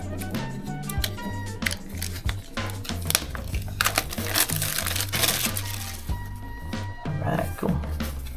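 Packaging of a Field Notes notebook starter kit being cut open, with crinkling plastic wrap, snipping and rustling that rise and fall near the microphone and go on without talk.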